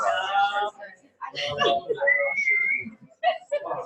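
A person whistles in an imitation of a dog whistle during a Buddhist teaching session, a sustained rising tone heard between bursts of nearby talk.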